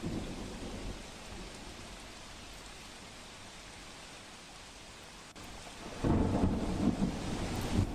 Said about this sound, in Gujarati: છોટાઉદેપુરમાં સાંબેલાધાર વરસાદ પડ્યો છે